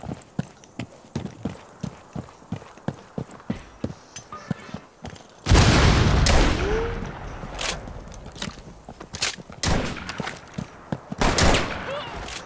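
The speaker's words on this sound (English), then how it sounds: "Shot him in the head, man. That was a good shot." Gunfire in Rainbow Six Siege on Xbox One: quiet, regular footstep-like clicks give way to a sudden loud burst of shots, followed by several more sharp gunshot bursts later on.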